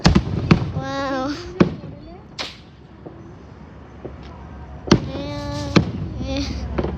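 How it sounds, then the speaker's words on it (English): Fourth of July fireworks crack and pop in sharp bursts with gaps between them, some distant thuds and crackles, while people react and talk nearby. "We got some fireworks for July 4th."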